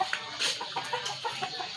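Chickens clucking close by in a small backyard at nightfall, in short, irregular bursts, with no talking.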